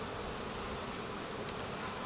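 Honeybees in a small, weak hive (nucleus colony) give off a continuous, even droning buzz, close and steady, with no voices.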